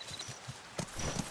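Horse hooves clip-clop in a quick, light rhythm on the ground in the video game Where Winds Meet, a few close, soft steps with no talking.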